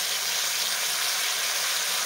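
Yellow potatoes with cumin frying in a pan just after a light sprinkle of water by hand, a loud, dense, continuous hiss of steam and sizzle close up, with no voices.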